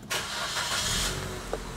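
A 2013 Suzuki Ertiga GX automatic cranks briefly and catches, settling into a steady mid-pitched idle rumble heard up close, with a small click near the end.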